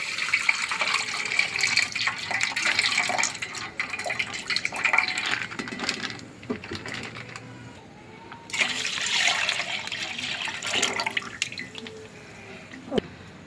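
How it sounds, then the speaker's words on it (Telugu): Milk pours steadily into a steel pot for sweet semiya, a continuous liquid splashing that briefly pauses midway and then resumes, close and fairly soft. "ఒక 1 లీటరు పాలు నేను ఇందులో పోసానండి"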